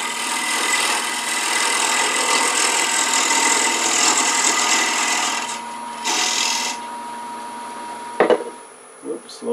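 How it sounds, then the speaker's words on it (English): A square scraper cuts into the inner walls of a turned wooden box spinning on a lathe. It makes a steady, loud rasping scrape for about five seconds, then gives short scraping bursts between pauses as the tool lifts away. "Now we need to use a square scraper to square those through those walls up a little bit."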